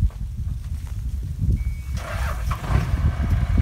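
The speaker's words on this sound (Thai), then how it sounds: "10ล้อออกจากไร่กันครับ" A ten-wheel truck loaded with sugarcane pulls out of a farm, its low engine rumble steady and fairly close, with a brighter burst of mechanical noise partway through.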